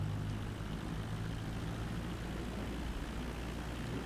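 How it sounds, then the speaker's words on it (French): A steady, droning airplane engine in Microsoft Flight Simulator 2020 hums continuously at a constant pitch, with a dense low rumble and no voices. "ce bruit de moteur d'avion, moi j'adore."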